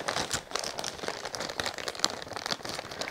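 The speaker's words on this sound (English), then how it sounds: "Excuse the rustling." Plastic packaging from a small clothing and accessories haul rustles and crinkles steadily up close, a dense, continuous crackle with no talking over it.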